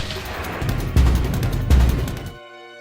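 A flurry of gunfire crackles in rapid bursts with two heavy booming volleys, then cuts off abruptly into a quiet tonal hum.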